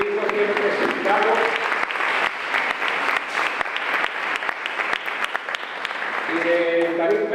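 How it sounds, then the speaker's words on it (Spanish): Warm, sustained applause from a crowd at a book presentation, many hands clapping densely and loudly, with bits of voices showing through at the start and end. "otro aplauso para Ildefonso Sena y el gran trabajo de un libro bien presentado"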